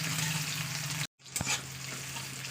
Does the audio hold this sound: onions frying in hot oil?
yes